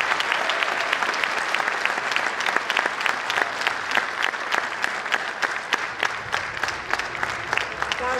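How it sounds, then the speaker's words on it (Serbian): A big round of applause from an audience, loud sustained clapping of many hands throughout with a faint voice underneath. "Jedan veliki aplauz."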